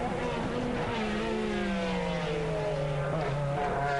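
A GT race car at the A1 Ring in 2001 FIA GT super pole qualifying takes a corner, its engine a loud buzzing whine whose pitch falls smoothly as it slows, then rises slightly again.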